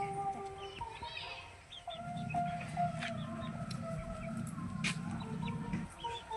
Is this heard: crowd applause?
no